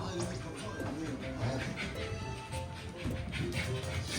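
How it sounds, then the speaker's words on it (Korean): An excited dog whimpers and yips in a busy home during a family gathering, with the high, broken cries rising over clattering dishes and background chatter. "강아지는 왜 이렇게 신난 거야?"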